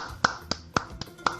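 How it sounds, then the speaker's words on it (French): A single person claps five sharp, separate times at an uneven, slow rhythm, each clap crisp and close, with quiet room tone between them. "Bravo, moi je vais applaudir."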